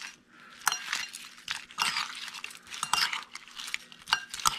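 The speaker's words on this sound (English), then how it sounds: "first I'm gonna kind of stir this" A utensil stirs shrimp in mayo sauce, clinking and scraping against the bowl in quick, irregular taps at close range.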